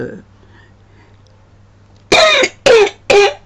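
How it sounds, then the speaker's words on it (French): A woman coughs three times in quick succession, loud and close, after a short stretch of near silence with a faint hum. "depuis hier, je tousse"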